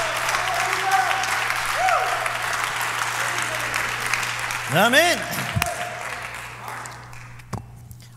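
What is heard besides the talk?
church congregation applause for the Lord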